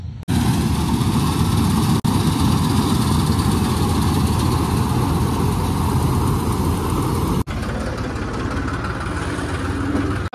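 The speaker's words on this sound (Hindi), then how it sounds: "कंबाइन काट रही है गेहूँ, और यहाँ पे ट्रैक्टर भी आ गया पास में ही।" A tractor engine drones loudly and steadily nearby while a combine harvests wheat in the field. The idling rumble is briefly interrupted by two abrupt cuts.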